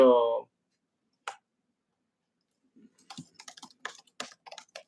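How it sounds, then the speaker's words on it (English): Brief spurts of clicky computer keyboard typing come after a short spoken word and a lone tap, forming quick irregular keystroke bursts, close and fairly faint in a quiet room. "I'll just type in the message."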